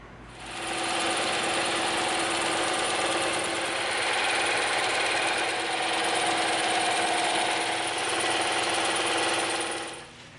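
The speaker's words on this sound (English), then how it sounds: "We can do a lot of the straight stuff with our bandsaw." A bandsaw cuts straight lines through EVA foam: a steady, dense mechanical whir with a faint rattle that runs without a break for about ten seconds, close and moderately loud, with no voices.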